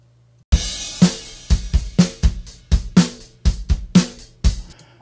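A recorded acoustic drum kit without any trigger samples plays a steady groove of punchy kick, snare and cymbal hits, loud and close, with no voices.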